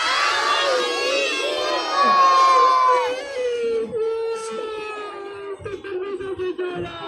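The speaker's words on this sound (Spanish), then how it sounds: "Vamos a gritar nuevamente, mis hijos, a la de tres, pero más fuerte." A crowd of children shouts loudly together in unison, a dense sustained burst of voices that swells near the middle and then breaks into scattered, fading cries.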